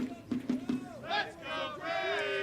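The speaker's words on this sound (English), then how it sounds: "with the crowd getting behind him" A baseball crowd cheers and shouts for a pinch hitter stepping up in a Braves–Cardinals game, loud voices rising and swelling in bursts over a couple of seconds.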